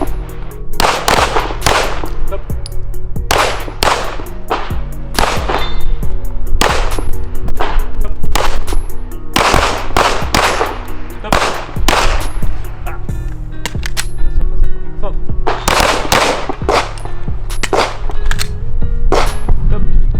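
Rapid gunfire at a shooting training session, loud and close, with repeated shots fired in quick volleys and short gaps between strings, standing out over steady background noise.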